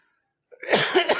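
Short burst of a man's harsh coughing after half a second of silence, close and loud, with rough throaty bursts following in quick succession.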